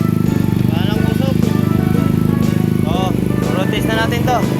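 A Yamaha Mio scooter fitted with a new exhaust pipe idles nearby with a steady, even putter, while voices talk over the engine.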